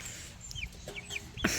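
Cornish Cross meat chickens cluck and peep quietly nearby in a few short, scattered calls over low background noise, with no voices.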